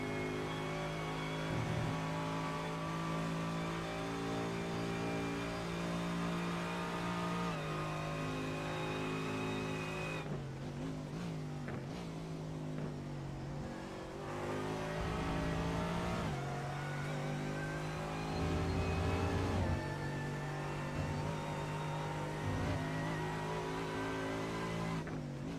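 GT3 race car engines roar around Road America in a racing game, a steady loud drone of several cars with rising and falling revs, gear shifts and a brief dip midway, with no talk over it.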